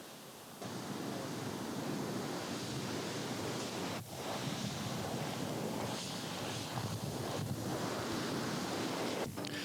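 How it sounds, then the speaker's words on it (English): Heavy ocean surf crashes steadily beside a littoral cone, where a two-foot-wide stream of lava from a main tube pours straight into the sea below a cliff; a loud, continuous roaring wash fills the whole stretch with no voices. "Now the main tube shoots a 2-foot diameter stream of lava straight out into the surf."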